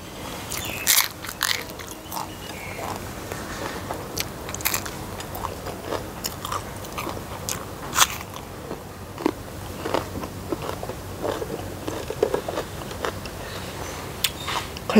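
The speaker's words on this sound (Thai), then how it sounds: "ไม่ได้ซอยใส่แล้วก็กัดพริกกินเลย" Raw chili peppers and other fresh vegetables bitten and crunched during a meal of salted fish and fermented fish dip, with repeated close, sharp crunches and chewing across the whole stretch, alone without talk.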